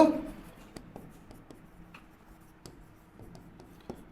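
Pen or pencil writing a journal entry by hand on paper, with soft scratchy strokes and a few sharper taps as the nib lifts and lands, close and quiet with no talking.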